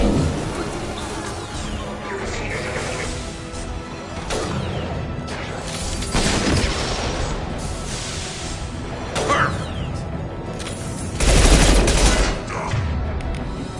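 Rapid gunfire from a Mass Effect battle on Omega, bursts of shots and booms layered over dense mechanical combat noise, loudest near the end with a heavy crashing volley.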